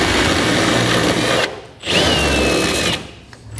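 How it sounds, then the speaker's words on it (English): Die grinder bit filing down sharp bare metal edges while fitting a Pace Edwards UltraGroove retractable hard tonneau cover, a loud, steady high whine in two long bursts with a short pause between them and a brief dip near the end. "what I'm gonna do is kind of file down some of these sharp edges. I have a die grinder bit"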